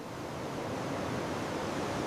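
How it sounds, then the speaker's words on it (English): Ocean surf breaks on a beach in an even, broad wash of rushing water, steady and fairly close, with no voices. "The waves are perfect right now."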